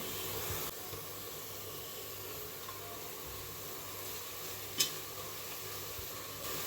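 Onions that have been cooking in oil until golden brown sizzle steadily in a pan, with chili powder added, a continuous soft frying hiss with one brief louder spike midway.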